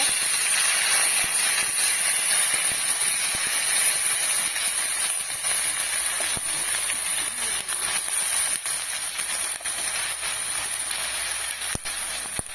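Onion paste hits a hot pan and sizzles in a steady, loud broadband hiss, close up and continuous, with faint clinks and a stirring shuffle now and then while a curry cooks.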